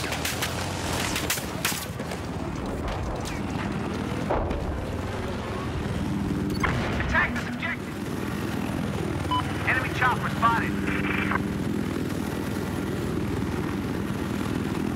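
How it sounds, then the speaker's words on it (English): A jet roaring overhead in Battlefield 4, with engine drone and whooshing passes amid rumbling blasts and battlefield noise, while someone talks over it. "Watch me kill this jet. Wait for it, boom!"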